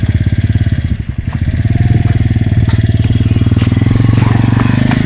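A motorcycle engine runs close and loud with a steady rapid throbbing putter, a brief dip near the start before it settles into a constant chugging idle-like rhythm.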